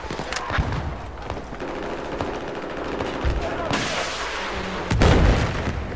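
Battlefield 4 combat, bursts of rapid gunfire with heavy booming explosions, a sharp loud blast midway and another strong impact near the end over continuous battlefield rumble.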